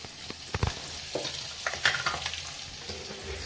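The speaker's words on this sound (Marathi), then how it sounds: "हे बघा, सध्या मॅडम स्वयंपाक करत आहेत. मे बी शेवाची भाजी बनवत आहेत." Someone is cooking a sev vegetable curry in a pan at home, giving faint frying hiss with a few sharp utensil knocks and clinks, moderately close.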